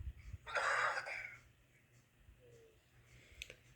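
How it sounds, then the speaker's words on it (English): A single short cough from a judge in a courtroom, fairly close and brief, followed by quiet room tone and a faint click. "The judge just coughed."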